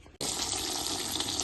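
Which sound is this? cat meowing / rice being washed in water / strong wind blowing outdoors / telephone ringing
rice being washed in water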